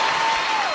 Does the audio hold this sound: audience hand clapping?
yes